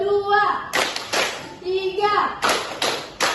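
Children clap their hands in bursts during a classroom counting game, with a teacher's voice leading between sharp, fairly loud clusters of claps.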